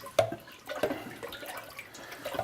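Homemade bone broth poured from an Instant Pot into a strainer and stirred gives soft splashes, drips and liquid trickles, with a few brief louder sloshes, quiet and close, no talking.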